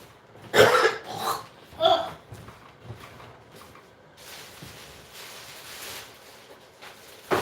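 Several sharp coughs burst out in quick succession near the start, followed by quieter rustling and a faint cough-like sound at the end, with no talking.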